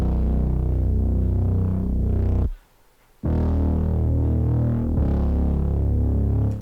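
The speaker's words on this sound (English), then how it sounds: "this is the bass preset I use. It's the Thermo One Shot from Ultraprint by I See You Nowhere." The Thermo One Shot bass preset from Ultraprint plays dry, without effects, as a loud, deep, droning tone in two sustained notes broken by a short gap, with a wobbling, throbbing texture.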